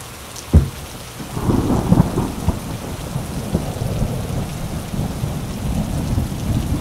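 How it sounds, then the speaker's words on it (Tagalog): Heavy rain pours steadily in the Philippine countryside with a sharp nearby thunderclap early on and low rumbling throughout, no voices. "malakas ang ulan"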